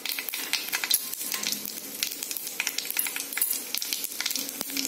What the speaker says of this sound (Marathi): तेल व्यवस्थित गरम होऊ द्यायचं आहे। तेल गरम झाल्यानंतर 1/2 टीस्पून मोहरी घातल्यानंतर